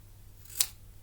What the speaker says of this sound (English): Get some pair of scissors